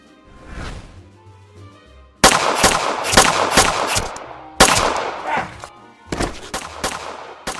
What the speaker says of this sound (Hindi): आरव और उसके आदमी आलिया पे फायरिंग शुरू कर देते हैं।